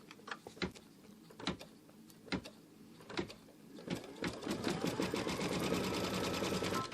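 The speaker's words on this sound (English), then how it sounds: "Let's stitch out the handle." An embroidery machine stitching out a door hanger handle starts with a few spaced mechanical clunks, then builds into a rapid, steady close needle chatter that keeps going to the end.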